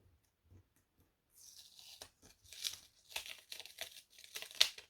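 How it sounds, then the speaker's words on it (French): Masking tape is slowly peeled off a paper card decorated with stencils, ink and watercolor, producing quiet, close crinkling and tearing rasps in short bursts with pauses between. "Je vais enlever tout le scotch de masquage."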